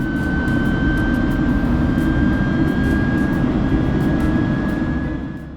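Air Niugini airliner climbing after takeoff, a loud steady cabin roar of jet engines with a constant whining tone on top, heard from inside and easing slightly at the end.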